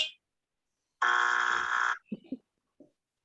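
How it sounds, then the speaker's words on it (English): A buzzer sounds in a union meeting room, a single loud harsh tone lasting about a second, followed by a few faint brief noises. "It's a delayed buzz."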